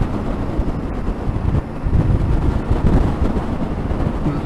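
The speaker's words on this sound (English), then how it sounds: "very, very windy up here." Strong, steady wind on an exposed hilltop in Wales, roaring and buffeting the microphone without a break, loud and close, with no talk.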